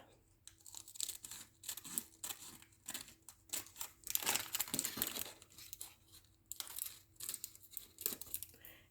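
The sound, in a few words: cutting a flap of a paper tag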